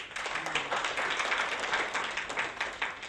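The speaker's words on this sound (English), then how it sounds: "But then let's clap for it." A group of people claps together in a steady, dense round of applause at close range, lasting about three seconds with no one speaking.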